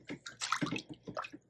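Cool running water rinses hand-dyed yarn in a sink, splashing and sloshing in uneven bursts close by, with no talk over it.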